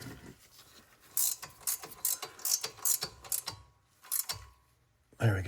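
Ratchet snugging studs on a Porsche caliper brake line bracket, a few bursts of quick close clicking separated by short pauses, fairly near with no talk.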